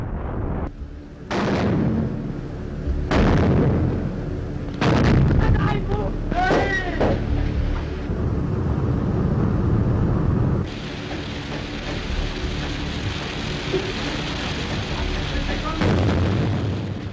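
Depth charge explosions in a World War II naval documentary, several deep booming blasts spaced a few seconds apart with rumbling aftermath, some sharp bursts and wind-like noise, one sustained hiss near the end.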